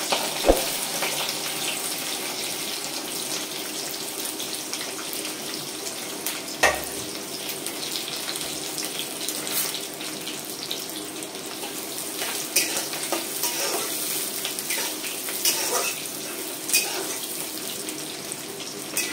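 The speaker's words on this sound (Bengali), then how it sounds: "পেঁয়াজটা আমি দিয়ে দিচ্ছি।" Onions going into a pan for a Bengali mutton curry fry with a steady, broad sizzle across the whole stretch, marked by a few louder clinks and stirring scrapes, with no talk.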